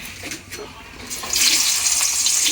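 Water runs from a tap in a village home kitchen, starting as a faint trickle and then swelling into a steady, loud gush that continues to the end.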